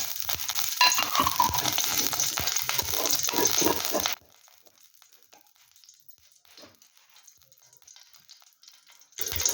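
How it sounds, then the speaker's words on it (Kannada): Nuts fry lightly in a spoonful of ghee in a kadai over a low flame, a close crackling sizzle with stirring scrapes that drops away to near quiet before returning briefly. "ಲೈಟಾಗಿ ನಾವು ಫ್ರೈ ಮಾಡಿಕೊಂಡ್ರೆ ಸಾಕು, ನಟ್ಸನ್ನು ಮಾತ್ರ."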